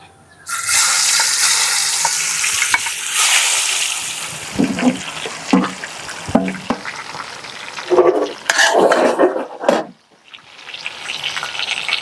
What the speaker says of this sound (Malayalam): നമുക്ക് എണ്ണയിലിട്ട് കൊടുക്കാം